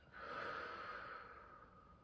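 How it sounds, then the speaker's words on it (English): A slow exhale after meditation, a gentle breathy release that rises quickly and tapers off over about two seconds, soft and close. "breathing out."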